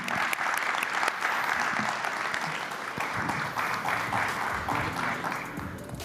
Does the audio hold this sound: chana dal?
no